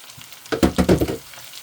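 Chopped carrots, leeks and celery drop into a pan for stir-fried noodles and sizzle in a short crackling burst of about a second, then the sound fades quickly.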